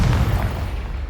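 Confringo spell blast in Hogwarts Legacy, a single dull, low boom that rolls off and fades over about a second, heard alone without voices.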